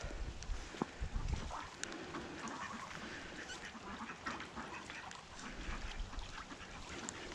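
Several ducks and geese quack and honk in a busy barnyard flock that includes big black drakes, a steady chorus of overlapping calls at moderate distance with scattered louder squawks.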